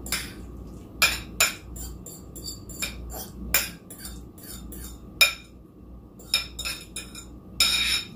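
Food being mashed on a plate with a utensil in a home kitchen, with scattered sharp clinks and scrapes of metal against the plate at irregular intervals over a low, steady background.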